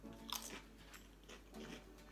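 Close, quiet crunching and chewing of a crunchy, airy, salty Lithuanian snack, with a few crisp bites followed by softer mastication.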